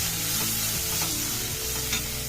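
Turmeric and chili powder fry in hot oil in a pan for methi dal, producing a loud continuous sizzle with stirring scrapes and no voices.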